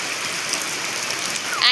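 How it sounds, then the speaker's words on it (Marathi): Rain falls in a village as a short, steady hiss of drops, with a faint bright splash or clatter near the end. "पाऊस आला, पाऊस आला."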